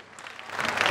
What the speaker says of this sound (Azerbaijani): Nazim Pişyarinin gəlin bir alqışlayaq